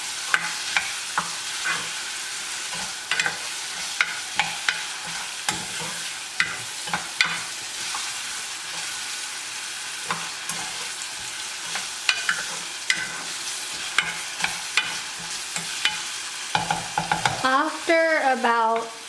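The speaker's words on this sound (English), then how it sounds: "And stir it." A Sri Lankan green beans curry fries in a pan while a spoon stirs it constantly, producing loud repeated scrapes and clacks over a bright sizzle, ending in a burst of squeaky scraping; no speech.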